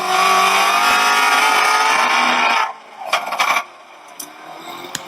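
A Ford Mustang GT350 race car's engine roars loudly and steadily on track at VIR for a few seconds, then cuts off abruptly, leaving scattered clicks and mechanical clatter.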